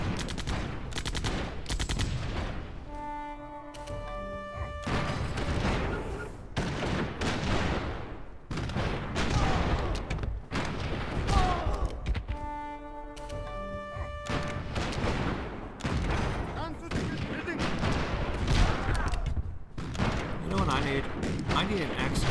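Artillery barrages in the strategy game Civilization IV, Realism Invictus mod, roar in dense, continuous volleys of booming blasts and crackling gunfire, loud and unbroken throughout with layered tonal chimes at intervals.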